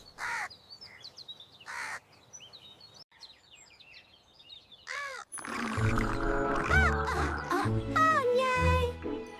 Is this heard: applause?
no